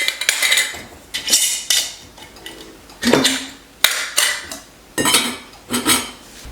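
Half-gallon glass jars being set down and shuffled on a counter, giving repeated loud clinks and knocks in irregular bursts about every second, close by with no talking.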